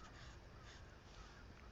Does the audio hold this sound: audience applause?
no